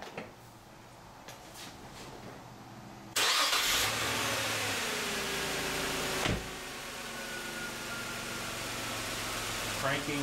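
Car engine cranked during oxygen sensor testing catches and settles into a loud, close steady idle after a quieter lead-in with faint sounds.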